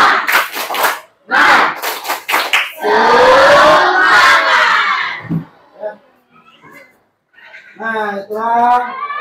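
A sixth-grade class in a classroom claps in quick bursts, then loudly shouts the 'tepuk semangat' clapping chant together. A teacher's voice follows in a quieter stretch near the end.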